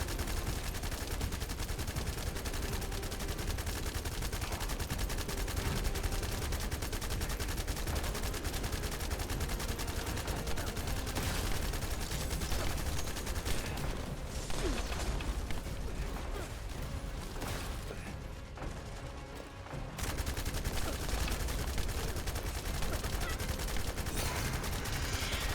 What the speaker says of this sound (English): start mag dumping immediately